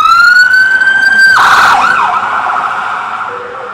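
Emergency vehicle siren passing an outdoor rally, a loud, close wail that breaks into a rapid yelp midway and then fades off into the distance.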